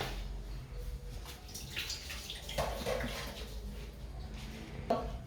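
Washing under running tap water, a steady close splashing flow with shifting gurgles and a small clink near the end, quiet and without talk.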